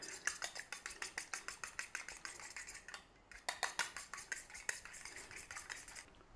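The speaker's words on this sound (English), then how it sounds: "let's beat up that egg in there" An egg beaten with a fork in a bowl for egg wash, giving a quick steady run of close, bright tapping clicks with a brief pause midway, no voices.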